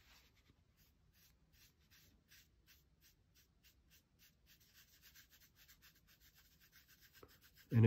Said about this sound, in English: as the brush unloads paint, I can begin scrubbing back and forth like this